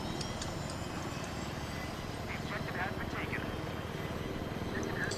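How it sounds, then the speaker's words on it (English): An attack helicopter in Battlefield 3 keeps up a continuous rotor and engine drone with a fast, steady chop, with faint higher game sounds and a voice mixed in beneath it. "and I'm back in a helicopter"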